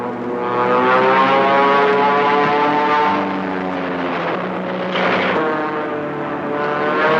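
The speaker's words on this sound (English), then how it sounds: "And here come two Thunderbolts." A P-47 Thunderbolt fighter's propeller engine drones steadily overhead in a wartime setting, a loud sustained roar that swells and eases slightly as it passes.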